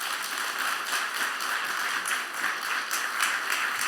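A church congregation applauds with steady, dense clapping throughout, a broad crowd sound with no voices standing out.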